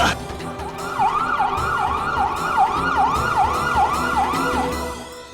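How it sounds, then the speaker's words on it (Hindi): Ambulance siren wailing in a steady repeating up-and-down pattern, loud and continuous, with traffic noise beneath, called after a man suffers a suspected heart attack. "एम्बुलेंस।"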